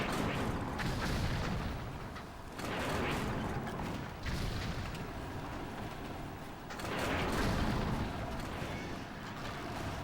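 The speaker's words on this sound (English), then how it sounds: "We get to take the catapults. Here we go! Ha ha ha! Fire!" Siege catapults firing in the World of Warcraft game during the battle for Gilneas City, heavy rumbling booms and continuous roaring battle noise that swells in waves throughout.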